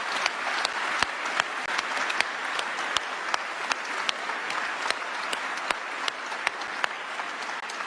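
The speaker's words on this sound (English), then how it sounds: "Let's have another round of applause, everyone." Audience applause fills a hall after the concert at the 2022 World Food Prize Laureate event: dense, steady clapping with sharp individual claps popping out, sustained throughout without talk.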